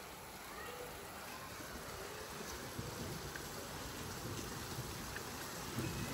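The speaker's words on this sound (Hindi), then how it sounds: "कितनी तेज़ बारिश है" Heavy rain falls outside during a monsoon-season downpour, a steady, dense hiss of drops that is fairly faint and continuous throughout, with no clear pauses.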